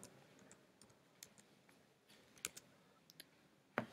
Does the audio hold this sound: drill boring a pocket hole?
no